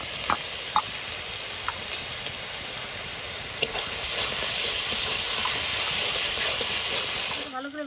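Ginger, garlic and green chilli paste fries in a pan over fried onion paste, giving a steady, close hissing sizzle with a few small pops and a stirring scrape near the end.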